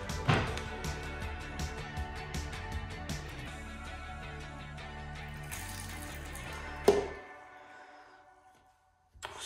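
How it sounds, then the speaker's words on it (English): Water runs from a tap into a container for a science lab experiment, a steady splashing stream for several seconds that cuts off sharply, leaving a faint fading trickle. "I'm going to fill it up with some water."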